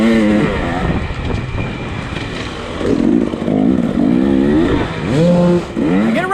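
Enduro motorcycles at a hard enduro pro race rev loudly and close by, engines rising and falling in repeated throttle bursts, one bike blipping hard behind another.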